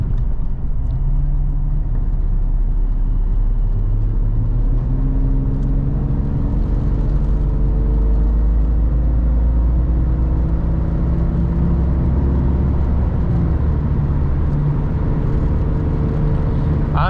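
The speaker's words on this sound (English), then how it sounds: "we're gonna take it on the highway here and we'll see how it accelerates here just a little bit" A 1997 Jeep XJ Cherokee accelerates on the highway, its engine droning and climbing through the gears under heavy, constant road and wind rumble, heard from inside the cabin.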